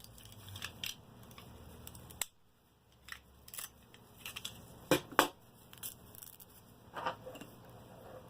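Cutting a hole in the center of an aquarium filter sponge on a cutting board gives a scattered series of close, quiet snips and soft crunches with short pauses, and one sharper pair of cuts in the middle.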